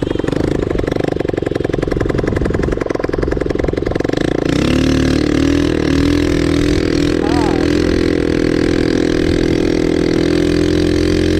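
An ATV beach bike engine runs near Dhanushkodi, first a rapid loud chugging idle, then a smoother steady drone with a brief rev, continuous and close throughout.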